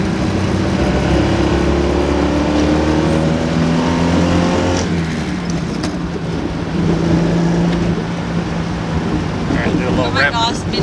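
A small Honda mini truck's engine hums and drones steadily with wind rushing past, heard from close by throughout.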